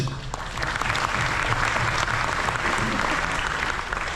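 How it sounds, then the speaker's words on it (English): An audience on a cruise ship at an evening music show claps steadily throughout, a dense and fairly loud wash of applause that carries on without a break. "Big round of applause to all of you now."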